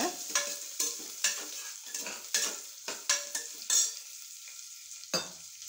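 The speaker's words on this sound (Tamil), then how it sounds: "பல்லாரியும் போட்டு நல்லா வதக்கணும் பொன்னிறமாக" Onions and vegetables sauté in a pan with a steady sizzle, broken by repeated sharp scrapes and clinks of a spoon stirring against the metal, close and clear with no talk.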